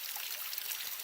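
Natural spring water flowing steadily above a waterfall in a fern- and moss-covered woodland, a soft, even hiss of running water with no voices.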